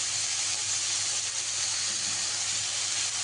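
Oil sizzles in a pan with green chillies for eggplant bharta, a steady close hiss that never changes and holds for the whole stretch.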